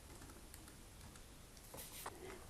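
Quiet, scattered keystrokes on a computer keyboard while a few characters of a last name are entered into student-records software, with a brief cluster of louder taps near the end.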